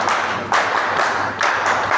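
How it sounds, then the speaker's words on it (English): An audience clapping for the KCCA at a stadium construction event, loud close applause coming in two or three rhythmic bursts with no talk. "So please clap for them, the Kcca."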